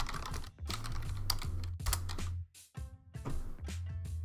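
Quick bursts of typing on a computer keyboard during After Effects work, close and crisp, in rapid clusters with short pauses between them and no talking.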